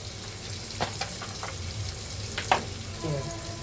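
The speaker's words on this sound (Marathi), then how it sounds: "कांदा कापलेला आहे त्याला आपण कांदा शिजून घेऊया" Chopped onion frying on a flat pan while fish curry is being made, a steady low sizzle broken by a few sharp scrapes and stirs, close and moderately quiet.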